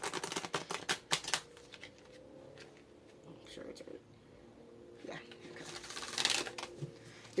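Tarot cards are riffled and shuffled close by in quick soft bursts, with quieter pauses of handling between them.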